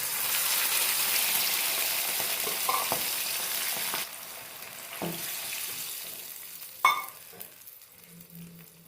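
Steady hiss and bubbling of water heating in a pan, loud at first then quieter, with a few clinks of utensils near the end.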